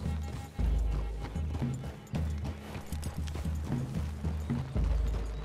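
Horses walking through woods in Red Dead Redemption 2, a steady, close clip-clop of hooves repeating in loose rhythm with occasional heavier thuds throughout.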